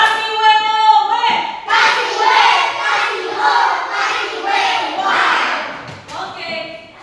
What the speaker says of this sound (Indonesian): Tepuk tangan dulu untuk dua kelompok ini, 2 dan 3. Kasih WOW.